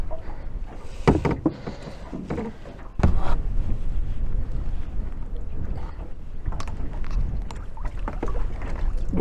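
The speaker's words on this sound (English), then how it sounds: "Wind has really come up." Wind picks up around a small rowboat on open water, gusty rumbling buffeting the microphone with a few sharp knocks and splashes from the boat, no voices.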